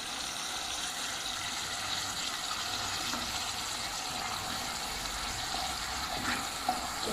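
Ginger garlic paste sizzling in hot oil in a cooking pot, a steady hissing fry that holds evenly at moderate loudness with no talking.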